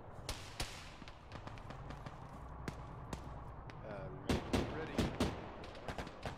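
Gunfire in a ShackTac Arma video game cracks out in sharp single shots and short bursts, scattered irregularly throughout, with people talking over the shooting.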